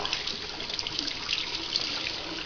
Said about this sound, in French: j'ai juste à les passer sous l'eau